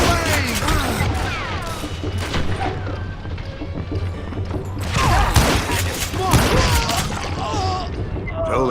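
Gunfire from the Western shooter video game Call of Juarez: Gunslinger: several loud, sharp shots and booming blasts crack out in bursts over a busy, continuous game soundscape.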